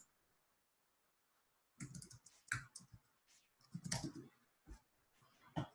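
Bursts of computer keyboard typing as a store name is entered into a search box, a quiet pause followed by clustered clicky keystrokes, fairly close and alone.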